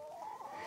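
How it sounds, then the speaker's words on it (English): Chickens clucking on a farm in Austria, a short, steady burst of hen vocalizing close by with no talk over it. "Wolfgang Heckel, it's been lovely learning a bit more about your farm and seeing these wonderful chickens."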